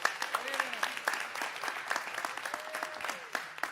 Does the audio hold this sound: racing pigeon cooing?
no